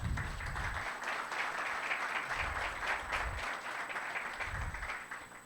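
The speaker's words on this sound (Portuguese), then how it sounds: "Então, peço uma salva de palmas," Steady applause from people at a council meeting, a continuous mass of clapping at moderate level lasting the full five seconds, with low thumps from handling or movement underneath.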